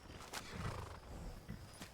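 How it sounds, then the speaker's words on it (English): A horse in the Skyrim video game whinnies and snorts while its hooves clop, fairly close and moderately loud, with a few sharp bursts of breath over a low rumbling background. "There's my horse."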